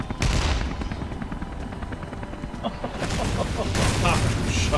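Gunfire in the video game Beyond: Two Souls: rapid bursts of shots crackle over a droning whir of rotor noise, with loud blasts building toward the end.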